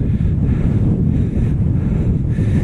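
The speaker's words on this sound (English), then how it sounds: "So windy." Strong wind buffets a microphone while a cyclist rides, making a continuous low roar that swells and dips in gusts. No speech is heard.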